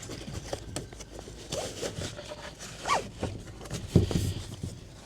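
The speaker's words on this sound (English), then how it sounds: "There's a little zip at the front to make it easier to put in." A small zipper on the front of a padded carry bag for a solar battery pack, heard as several short scratchy pulls and scrapes at close range with some handling rustle and no talking.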